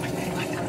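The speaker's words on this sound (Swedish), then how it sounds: "Fyller vatten i kranen, i systemet." Tap water runs steadily into a motorhome's onboard water system, a continuous close rushing fill with no break or change in level.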